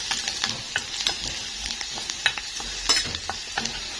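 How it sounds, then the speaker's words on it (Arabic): Garlic sizzles gently in a pan for a cow-trotter tagine, with a soft continuous crackle broken by scattered small pops and light clicks, fairly quiet and with no talking. "نحمر الثوم كده"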